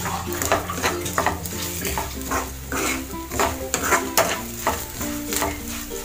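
Mutton curry masala being stirred and fried in a pan over a low flame, a steady sizzle with repeated scraping strokes of a spoon against the metal, close and continuous throughout.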